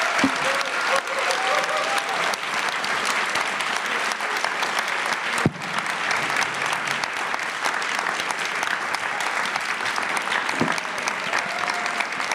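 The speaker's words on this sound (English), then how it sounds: "a round of applause for our extraordinary panel." Audience at a keynote panel on technology and race applauds steadily and fairly loudly, a continuous wash of clapping with a few murmurs.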